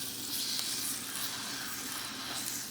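A thick New York strip steak sizzles steadily in hot olive oil in a pan, a close, continuous frying hiss with no talking.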